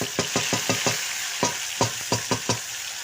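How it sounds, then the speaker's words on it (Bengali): Cumin seeds tempering in hot oil in a wok sizzle under a rapid series of sharp spatula scrapes and taps, about a dozen strokes in uneven rhythm, close and fairly loud. "কড়াতে তেল দেওয়া হয়েছে, এরপরে জিরে ফোড়ন দেওয়া হবে।"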